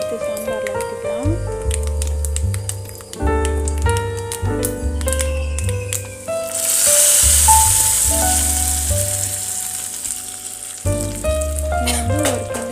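A sautéed tempering poured into sambar, with loud sizzling and splattering bursts and stirring clatter, while music-like tonal sounds run through and a burst of hissing rises near the middle.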